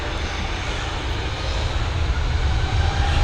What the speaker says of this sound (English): this Egypt Air's departure. She's heading over to Cairo, this A320neo